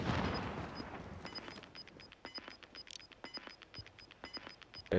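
Sniper rifle fire in Call of Duty: Modern Warfare, a rapid series of sharp cracks in quick bursts over a faint steady tone, loud and close with no talk.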